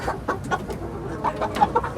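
Chickens cluck in a farm coop, a run of short, fairly loud calls close by with no voices.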